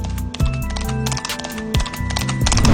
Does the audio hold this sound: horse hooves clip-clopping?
yes